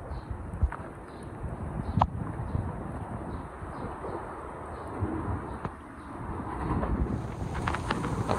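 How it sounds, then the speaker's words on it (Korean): Strong wind during a typhoon at a nature park in Jeju, a steady loud rushing roar buffeting the microphone, with occasional sharp clatters and knocks and rising gusts toward the end, no talk. "본격적으로 태풍 영향권인지 바람이 엄청 심해지고 있어요."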